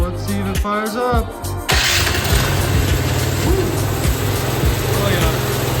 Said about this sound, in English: Fires up.